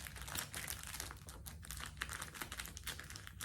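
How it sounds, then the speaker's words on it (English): Thin paper tissue crinkles and rustles up close as it is pushed into a small Celine Mini Triomphe handbag, a quiet, continuous scrunching for a few seconds. "let's try to see if I can put this paper tissue inside"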